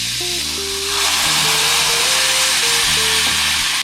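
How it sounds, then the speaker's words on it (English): Vegan bacon sizzles in a pan, a steady hiss of frying under a melodic musical backing. "Bacon. Make sure don't burn it."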